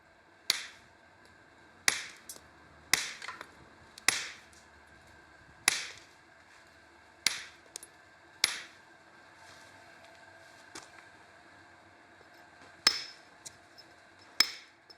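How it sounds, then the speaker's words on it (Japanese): A stonemason rough-dresses stone with a hammer and chisel tool, giving sharp, ringing strikes at uneven intervals of about one to two seconds. A few lighter taps fall between them against a quiet background. "雪刀というハンマーと小屋付けという道具で荒ばつりします"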